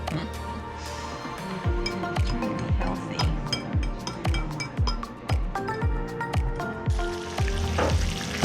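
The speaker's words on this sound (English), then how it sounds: "So it's really sizzling like the way you want it right now." Breaded snook coated in breadcrumbs, almond flour and egg wash frying in hot olive and avocado oil: a close, steady sizzle with repeated light clinks and stirring from utensils against the pan.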